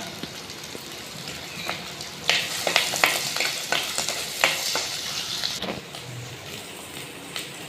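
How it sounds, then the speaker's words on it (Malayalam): Crushed ginger and garlic with curry leaves and green chilies fry in hot oil, giving a bright crackling sizzle that flares midway alongside scraping stirs, then settles lower, with no talking. "നമുക്ക് ഇഞ്ചിയും വെളുത്തുള്ളിയും ചതച്ചത് ഇതിലേക്ക് ചേർത്ത് കൊടുക്കാം നമുക്ക് കറിവേപ്പില ചേർത്ത് കൊടുക്കാം"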